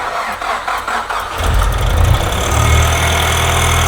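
A Range Rover's turbocharged engine cranks, catches and settles into a loud, rough, unhealthy-sounding idle, close by.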